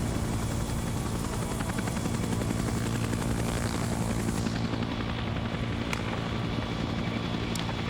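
Helicopter rotor and engine noise in a military video game, a loud steady chopping drone that fills the whole stretch with no talk over it.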